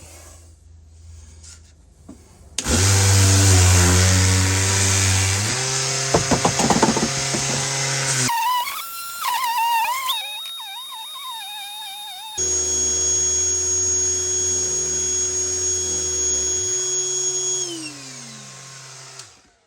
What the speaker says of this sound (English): the shop vac works really well with the mouse sander